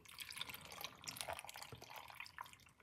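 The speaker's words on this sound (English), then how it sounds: "let's put some water in it" About one cup of water is poured into a blender for beetroot juice, a faint, steady splashing trickle with light drips throughout and no talking.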